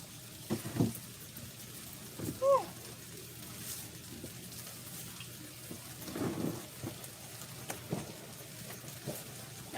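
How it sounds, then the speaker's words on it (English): Heavy rain falls in a backyard garden as a steady hiss of drops, with a few soft thuds and splashes standing out near the start and midway. "I'm glad that the rain is trying to lighten up. It was raining super hard"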